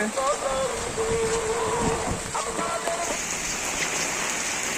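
Heavy rain during Cyclone Remal pours steadily, a dense unbroken wash of close, loud noise with a few faint tonal sounds early on.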